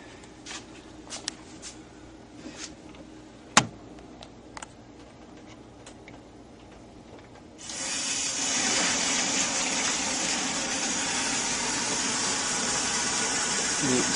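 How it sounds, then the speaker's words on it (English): Water filling the reservoir of an Easygreen sprouter through a tube, starting as a faint trickle with a few light ticks, then swelling into a steady, loud rushing gush for the final six seconds. "See right now the water's starting to go in, starting to fill up."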